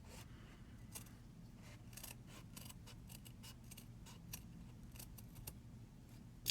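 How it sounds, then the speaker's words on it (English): Quick, crisp snips of scissors cutting bead embroidery thread, repeating irregularly at close range over a low background hum. "Kind of give a buffer between the scissors and the threads."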